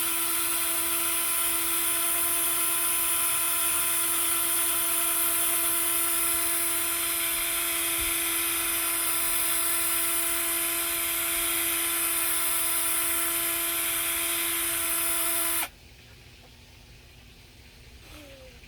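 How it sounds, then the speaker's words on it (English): Handheld drill running on a generator port, a steady high-pitched whine held continuously for about fifteen seconds before cutting off abruptly, leaving only faint background hiss. "Take your drill."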